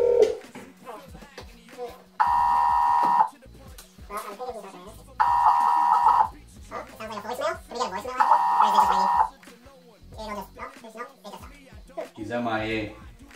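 Beeping from a telephone during an unanswered call, three evenly spaced long electronic tones about a second each, each followed by people talking over the line.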